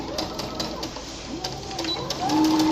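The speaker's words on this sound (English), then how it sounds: "I'm gonna keep sewing around" A sewing machine stitching around a felt Christmas gift bag, its needle running in a steady mechanical whir with brief pauses and pitch shifts, close by, with birds cooing faintly in the background.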